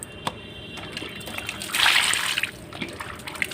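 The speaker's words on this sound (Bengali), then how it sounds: "মাংসগুলোকে আমি যে ভালো করে জল দিয়ে ধুয়ে নিচ্ছি" Pieces of mutton being washed with water: quiet trickling and dribbling, a sharp knock early on, then a brief louder splash and slosh midway before settling back to soft water sounds.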